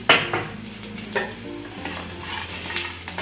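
Onion masala frying in a pan as poppy seeds go in, a continuous crackling sizzle broken by scraping stirs of a spatula, close and moderately loud, with no voices.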